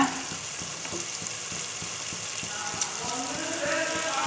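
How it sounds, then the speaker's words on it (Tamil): Onions sauté in a pan while making a double beans biryani, giving a steady close sizzle with soft, regular ticks and scrapes of stirring throughout. "வெங்காயம் நல்லா வதங்கிடுச்சு"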